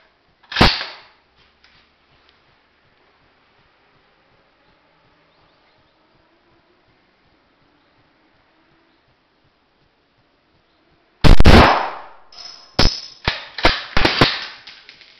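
FR-8 sport hunting rifle in .308 Winchester fired on a 100 m range: one sharp loud crack near the start, then long quiet, then a second blast followed by rattling echoes and clatter.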